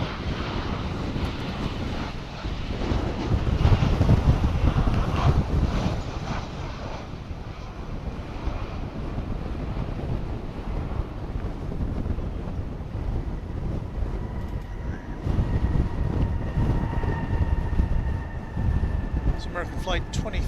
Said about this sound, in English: flight 2599 coming in from beautiful downtown Burbank.